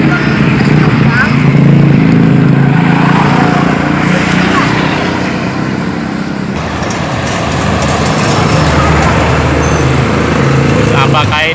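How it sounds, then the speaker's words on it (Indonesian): A Sinar Jaya bus drives along the busy Ajibarang–Bumiayu highway, its engine rumbling steadily amid dense traffic noise, while people talk over it throughout. "Bus apakah ini?"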